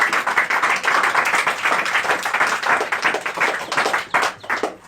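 A church congregation claps loudly and steadily, a dense wash of many hands filling the room. A few voices rise faintly underneath.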